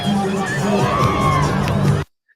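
A woman screams amid a loud, cheering crowd at an NBA game as a basketball player slips on the court, the dense roar of voices filling the arena before cutting off abruptly.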